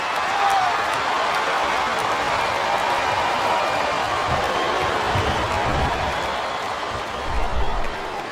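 Dense, steady arena crowd roar from a wrestling video game, WWE SmackDown vs Raw 2007 on PS2, filling the whole stretch at constant loudness with a brief swell near the end, mixed under commentary.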